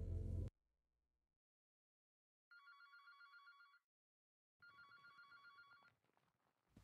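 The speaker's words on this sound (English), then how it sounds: "There's the phone again." Telephone bell ringing in the video game Heart of the Killer, two separate bursts of a bright electronic ring, each lasting about a second, heard alone after a short loud thud, with quiet gaps between.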